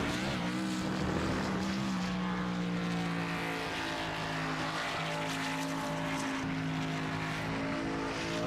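A sim-racing car engine at full throttle during an SWM National Series playoff race in a video game, its steady, loud harmonic drone holding and climbing slightly throughout with no pause.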